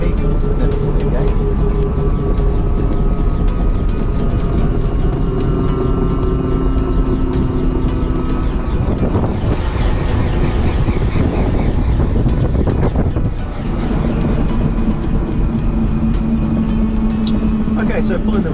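A Robinson R44 helicopter's rotor keeps running during shutdown, a loud continuous whir and drone heard from inside the cabin with wind buffeting, while a person talks over it.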